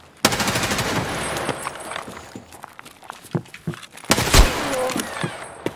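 Rapid automatic gunfire in Escape From Tarkov, loud bursts near the start and again around four seconds, with scattered single shots and footsteps between.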